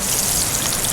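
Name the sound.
crawdad sizzling in a frying pan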